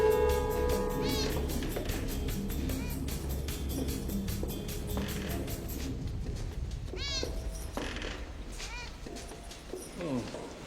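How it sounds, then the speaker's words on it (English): A cat meows in The Matrix Resurrections, a few rising calls in the second half after a stretch of music, with a voice talking over the scene. "when you see the little cat that walks past"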